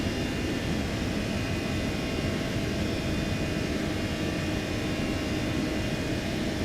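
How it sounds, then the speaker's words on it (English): CFM engines on an Airbus A320 in the X-Plane 12 flight simulator give a loud, steady roar with a constant whine, unbroken and without talk. "The CFM sounds are noticeably louder."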